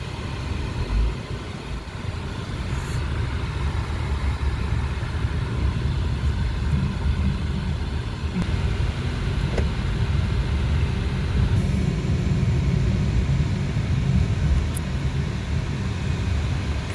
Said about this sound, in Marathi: ट्रॅफिक इथं ट्रॅफिक लय राहते यार